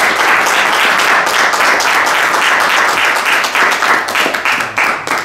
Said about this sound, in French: La municipalité vous applaudit.